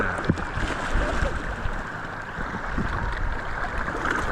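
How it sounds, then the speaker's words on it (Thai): Strong sea waves rush and churn continuously nearby, a dense, steady roar of water with no clear breaks. "คลื่นค่อนข้างแรงนะทุกคนนะ"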